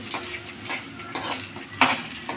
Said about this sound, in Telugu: ఎండు మిరగాయలును ఇవి వేగిపోతున్నాయి కదా ఎల్లుల్లిపాయలు ఉన్నాయి కదా పది రెబ్బలు వేసుకుంటున్నాం